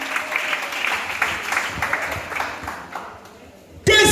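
A church congregation applauds and cheers the Lord, with dense, sustained clapping from a crowd and a voice talking over it. A louder burst of applause and cheering breaks out right at the end.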